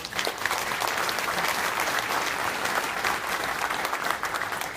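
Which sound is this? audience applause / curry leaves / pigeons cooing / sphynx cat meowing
audience applause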